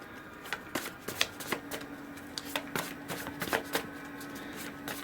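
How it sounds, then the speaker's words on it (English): Tarot cards are shuffled by hand in a steady run of crisp riffling flicks and soft slaps, close and fairly quiet, with no voices. "I'm going to pull you a outcome card to finish the reading"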